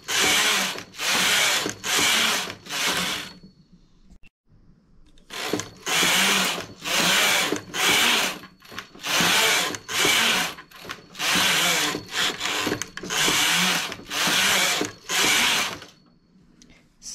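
Domestic knitting machine carriage sweeping back and forth across plain stockinette rows in two blended yarns at tension setting 7, giving loud, steady, evenly spaced mechanical whirring passes with a short pause partway through.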